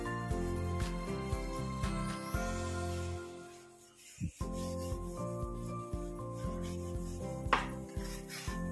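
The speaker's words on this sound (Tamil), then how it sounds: "இப்போ நான் அந்த ஸ்க்ரப்பரை வச்சு ஸ்க்ரப் பண்ணிக்கிறேன்" A scrubber is rubbed back and forth over a kitchen surface during a deep clean, giving steady close scratchy strokes in a continuous rhythm, with a short pause partway through and a faint clatter near the end.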